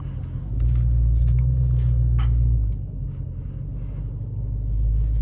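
Deep, steady engine rumble from inside a Dodge Hellcat driving at night, swelling louder for a couple of seconds before settling back to a low, continuous drone.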